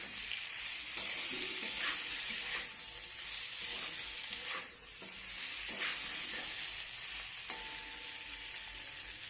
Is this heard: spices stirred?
yes